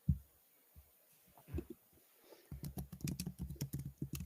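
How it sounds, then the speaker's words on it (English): A loud computer keyboard clatters under fast typing, first in a few scattered taps and then in a dense, rapid run of keystrokes, close to the microphone, with no talking. "your keyboard talks for itself. It's loud."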